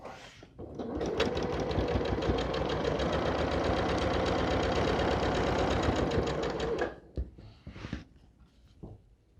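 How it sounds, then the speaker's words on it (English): A sewing machine stitching Ohio Star quilt block pieces runs in one steady, fast, loud whirring burst for several seconds, then stops, followed by a few faint clicks and handling sounds. "So then I'm just going to sew these together and then add these on there"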